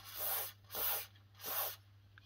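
Three short bursts of aerosol spray onto a Volvo 940 rear axle during an oil change, each a hissing blast about half a second long, separated by brief pauses and a faint low hum.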